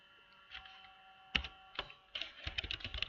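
A computer keyboard is typed on in a few quiet, scattered clicks, then a quicker burst of keystrokes near the end. It is close but faint, with no talking.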